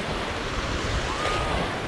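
Steady ocean surf washes onto a beach at Orange Beach, Alabama, a continuous broad roar of breaking waves mixed with wind buffeting the microphone, with no voices.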